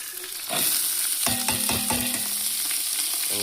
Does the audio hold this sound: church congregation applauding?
no